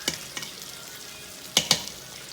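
Spoon scraping and stirring food in a hot pan just taken off the stove, a few distinct clinks and scrapes with soft sizzling between them, close and alone.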